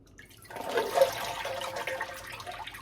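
Canned chickpeas rinsed under a running kitchen tap, a short splashing rush of water starting after a quiet moment and continuing steadily.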